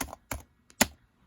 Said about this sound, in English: So as you see, I am typing.